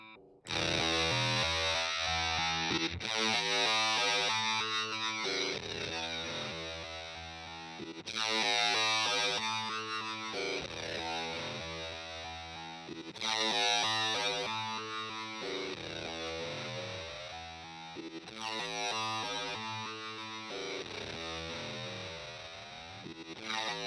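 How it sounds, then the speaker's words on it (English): Distorted guitar through a ZVEX Super Seekers pedal, repeating sequencer-stepped patterns with glissando pitch sweeping smoothly between notes, in looping phrases of a few seconds each. "maybe you just want to hear a glissando on one of these steps"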